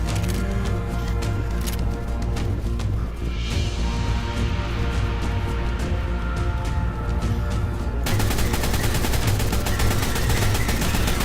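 Rapid gunfire rattles in the video game ARK Survival, dense repeated shots over a loud game backdrop, continuous and close with a sudden shift in the mix partway through.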